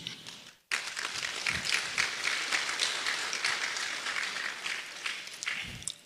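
Sustained audience applause at the 2026 Asantehene Otumfuo Osei Tutu II Art Awards ceremony in Ghana, a dense steady wash of many hands clapping that begins abruptly after a brief quiet and continues loudly throughout.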